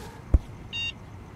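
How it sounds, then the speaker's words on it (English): A short electronic beep sounds once in the video game Hello Neighbor alpha 2, after a soft thump, quiet against a faint background. "What's that beeping?"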